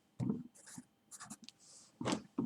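Chalk or marker strokes writing math on a classroom board, a few short scratchy bursts with pauses between them, close and fairly quiet with no talking.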